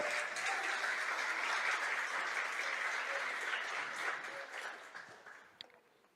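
A church congregation applauds during a sermon, a full, even roar of clapping from many people that holds steady and then tapers off toward the end.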